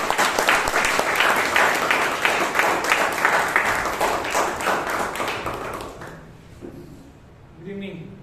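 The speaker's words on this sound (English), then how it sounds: "with a thundering round of applause to conduct the table topic session" A Toastmasters club audience in Bangalore gives a thundering round of applause to welcome the Toastmaster for the table topics session. Dense, loud clapping runs steadily for about six seconds, then thins and fades out.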